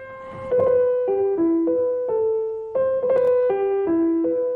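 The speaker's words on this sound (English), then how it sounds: "The bassoon solo at the very beginning of the Rite of Spring." A solo bassoon plays the opening melody of Stravinsky's Rite of Spring, a slow, lyrical line of sustained reedy notes shifting step by step, alone and clear.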